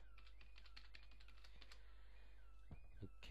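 Quick, light keystrokes on a computer keyboard tap in a steady run, faint and close, with a few heavier clicks near the end.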